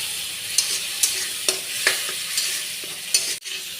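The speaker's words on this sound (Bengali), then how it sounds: "মশলা দিয়ে আলু পটলটা খুব ভালো করে কষিয়ে নেব।" Potatoes and pointed gourd being stirred and sautéed with spice paste in a pan, giving a steady soft sizzle broken by scraping stirs and occasional sharper clacks of the spoon against the pan.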